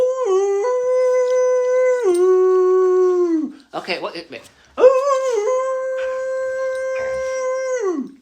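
A dog howls like a wolf in long, sustained wavering tones, one drawn-out howl, a short break of scuffling and voices, then a second long howl, close and loud, with a person speaking briefly around it.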